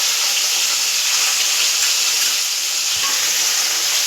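Small fish fry in a hot pan with a dense, steady sizzle that stays loud and close for the whole stretch, with no voices.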